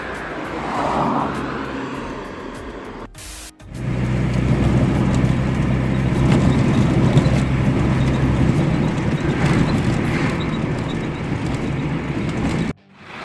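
A car heads into the city, its engine and road noise forming a steady, loud drone that follows a short quieter stretch and brief handling noises at the start.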